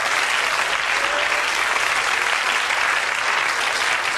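A radio studio audience applauds in a continuous, even roar of many clapping hands, loud and full throughout with no pause.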